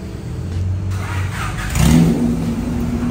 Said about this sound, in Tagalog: Pakinggan natin ang budget meal muffler.